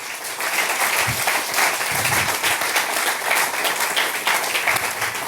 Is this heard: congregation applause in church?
yes